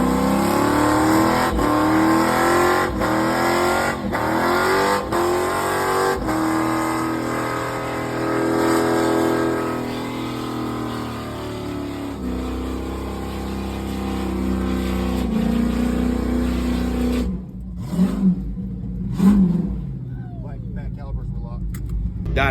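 A truck's engine roars and revs down Skid Row at Summernats, rising and falling through several loud, long pulls, with a brief gap of quiet near the end and voices talking over parts of it.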